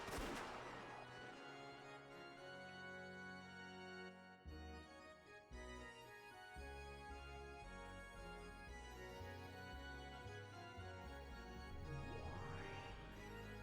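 Gunfire in the Umineko visual novel game comes as a burst of shots over a droning, layered musical score that runs throughout.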